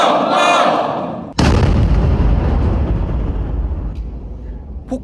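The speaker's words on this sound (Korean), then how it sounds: "암모늄 나이트레이트 폭파!" An ammonium nitrate charge detonates at an army engineer school's live demolition training range. A shouted voice comes first, then a sudden very loud blast rolls into a long rumbling decay with debris settling.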